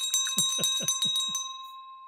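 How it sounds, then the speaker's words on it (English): A small bell is rung in a quick series of about six bright dings with a sustained metallic ring that carries on and fades out after the strikes stop, close and clear with no talking. "maybe a ringy ding of that bell"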